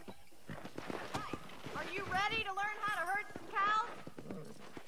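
A horse's hooves clip-clop at a walking pace in Red Dead Redemption while someone talks over them, with game music and occasional sung or whinny-like tones in the mix.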